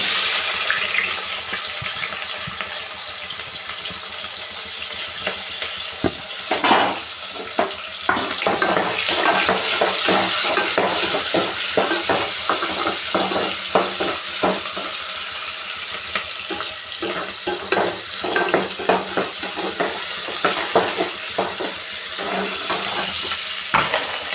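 Chopped onion sizzles steadily in hot oil in a pan for cabbage palya, with frequent sharp scraping and clattering strokes of a spatula stirring it; a continuous close broadband hiss runs beneath the irregular stirring knocks, with no talking.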